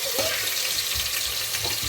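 Chopped onions frying in hot oil in a home kitchen pan, a steady close sizzle with soft stirring scrapes throughout.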